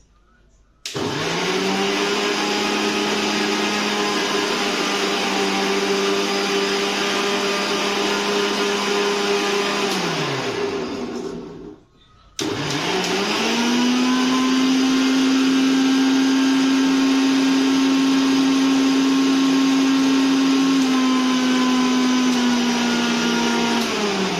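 A loud blender motor whirs steadily while churning cream into butter, cuts off briefly, then restarts at its highest speed with a higher pitch and runs continuously until the end.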